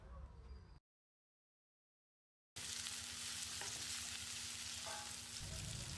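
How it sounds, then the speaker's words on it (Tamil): Crushed ginger and garlic sautéing with onion in a pan for a brinjal potato pepper fry, a steady close sizzle with stirring scrapes, broken by a short silent gap. "இஞ்சி பூண்டோட பச்சை வாசனை போகிற அளவுக்கு வதக்கி விட்டுடலாம்"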